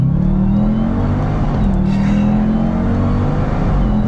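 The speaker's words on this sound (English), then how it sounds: "Nice downshift, super smooth, super crisp. The sound is intoxicating." Dodge Durango Hellcat SUV, 2021, engine droning loud and steady up close, with a short pitch dip and blip as it revs through a downshift on the 8-speed automatic, no talk.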